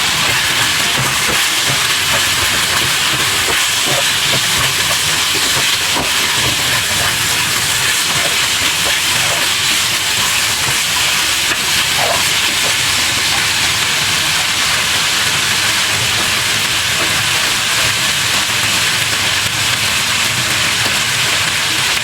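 Onion and garlic sizzle in a hot pan for pork with okra, a loud, steady, dense hiss that holds unbroken throughout, close up.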